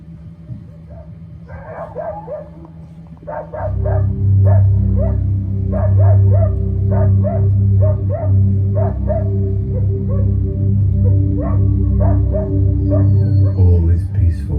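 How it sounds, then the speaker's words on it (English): Local farm dogs on Berkeley Common near Ulverston, in the South Lakes of the Lake District, bark repeatedly and insistently at mid distance over a steady low rumbling drone. "All is peaceful on Berkeley Common, except for the incessant barking of the local farm dogs."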